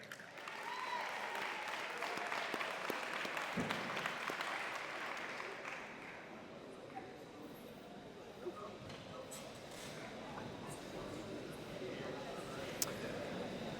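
Audience applause at a high school athletic awards ceremony, steady clapping from a large crowd that carries on for over ten seconds and slowly thins out, with a voice speaking over it.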